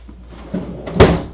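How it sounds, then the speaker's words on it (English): A freezer drawer beneath a French door fridge in a 2026 Forest River Cherokee Sabre 36EST RV rolls open with a soft slide and then a single firm thud close by, alone without talk. "you've got this big French door fridge with the 2 freezers down below."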